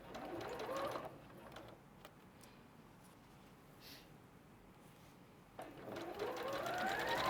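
Sewing machine stitching a quilt seam, running in bursts at the start and end with a quieter pause between, close and steady with a mechanical whir.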